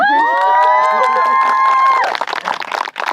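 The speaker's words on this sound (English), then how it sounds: "And you can cheer." Wedding guests cheer at a ceremony just after the couple's kiss, a loud burst of crowd shouts and clapping following sustained tonal music or voices.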